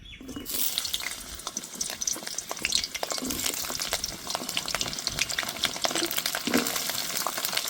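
Pointed gourd pieces fry in hot oil in a wok, giving a continuous close, crackling sizzle with scattered pops and stirring scrapes and no voices.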